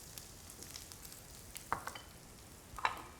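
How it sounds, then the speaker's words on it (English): Cashews lightly sautéed in a pan for a stir fry, with a steady soft sizzle and occasional stirring scrapes, close and quiet. "Then goes in my cashew. Would lightly saute the cashew."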